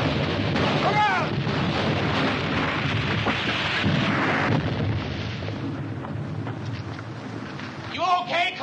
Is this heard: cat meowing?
no